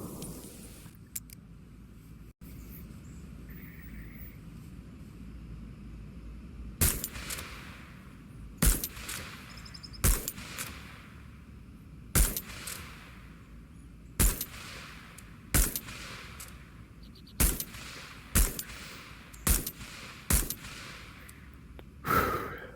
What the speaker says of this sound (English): There's nothing like the sound of this gun.